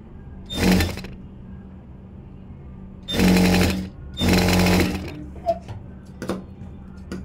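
A sewing machine stitches along the edge of a blouse's fall piece in three short bursts of fast, even needle chatter separated by pauses with small clicks and handling noises.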